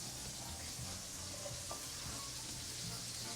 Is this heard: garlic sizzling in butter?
yes